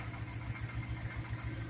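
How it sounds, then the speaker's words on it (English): A rumbling engine idles steadily nearby, its low throb pulsing in an even, regular rhythm with no talking. "Actually sounds like a diesel engine."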